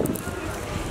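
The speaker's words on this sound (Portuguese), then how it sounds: "Está um bocadinho de vento." Outdoor wind on a trip to Rome roars steadily across the microphone, a dense, constant rumble and hiss that fills the whole second without pause.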